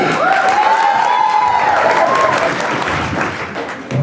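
An audience at an Easter stage program applauds loudly for a woman judge as she takes the stage, with dense, sustained clapping and some cheering. A single high whistle rises above the crowd.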